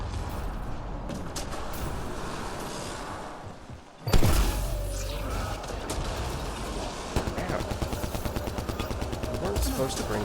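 Rapid gunfire from the Mass Effect Andromeda multiplayer video game: steady repeated shots after a loud opening burst, with mechanical game effects in the mix.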